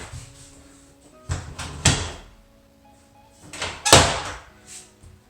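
A bathroom door in a mobile home remodel is opened and closed during adjustment, giving two clusters of knocks and latch clunks about two seconds apart, with softer handling noises between, fairly close and without voices.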